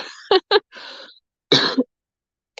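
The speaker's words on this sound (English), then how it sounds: "I think I'm about to have a coughing fit" A few short bursts of throat clearing and coughing, separated by brief pauses, close to the microphone.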